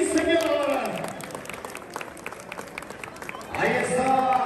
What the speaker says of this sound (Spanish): regálenme el aplauso para la pólvora de Cruz Grande